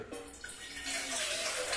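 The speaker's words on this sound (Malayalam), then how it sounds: "ഒരു ഗ്ലാസ് വെള്ളം പാർന്നു" A short, soft splash and trickle as water is poured into a glass, quiet and close.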